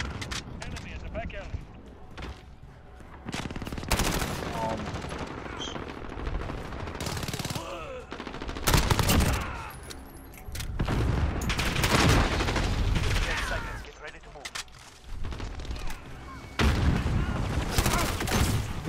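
Rapid automatic gunfire and bursts from a first-person shooter video game, firing in repeated volleys with breaks between them, while players talk excitedly over the shooting.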